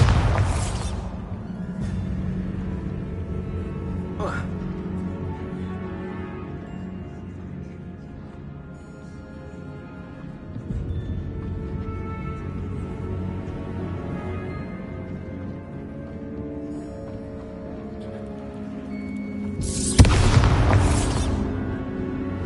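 A Bombarda spell explosion in the video game Hogwarts Legacy lands as a sudden loud burst near the end, rising out of steady game ambience and soft music.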